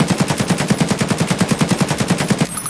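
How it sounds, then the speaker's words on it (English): Automatic fire from an AKM rifle in Escape from Tarkov, shot from a crouch at a distant target: one loud, fast, even burst of about twenty rounds that stops abruptly near the end. "Let's try shooting from crouch at a longer range target."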